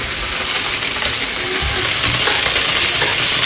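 Paneer frying in a pan, a loud, continuous sizzle with steady hissing crackle throughout, close up and alone.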